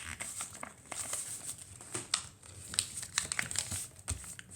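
Sheet of paper being folded and creased into a paper boat, with steady close crinkling and rustling and sharper crackles as the folds are pressed down. No voices.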